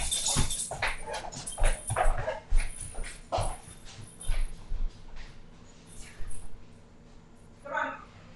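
A dog whimpers and yips in short bursts, with occasional louder barks, fairly near and alone, the thin high whines rising at the end.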